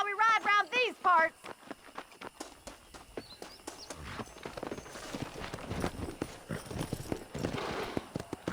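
Horse hooves clip-clop in a quick uneven rhythm during a ride, a series of sharp knocks growing busier and louder toward the end, preceded by a brief burst of shouting or whinny-like vocal sounds at the start.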